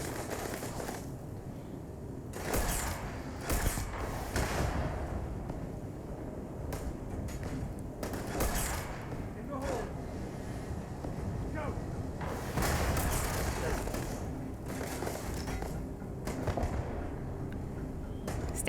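Gunshots in the video game Starfield crack out in a series of irregular bursts and single shots over a constant rumbling background, fairly distant and muffled.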